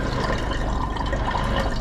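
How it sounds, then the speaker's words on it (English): Liquid pours steadily into a flask during gold refining for recovering gold from fingers: a continuous close gurgling wash of fluid with no voices. "that's why I pour it into a flask"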